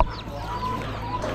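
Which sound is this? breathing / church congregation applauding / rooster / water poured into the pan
rooster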